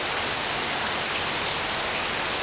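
Steady rain falls close by outdoors in Louisiana, a dense, even hiss of drops on surfaces that continues unbroken without pause or any voices.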